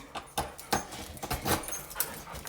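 Dog whimpering and whining in short high bursts at close range, with a few brief jingling clicks between the cries, no one speaking.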